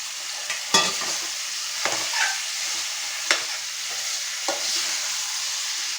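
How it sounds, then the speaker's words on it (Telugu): Raw peas, tomatoes and potatoes for a curry cook in a pan with a steady close sizzle, broken by occasional scrapes and clinks of stirring. "ఇప్పుడు అయితే ఇవన్నీ కొంచెం ఉడికేదాకా మగ్గించుకున్నామండి పచ్చిపప్పు"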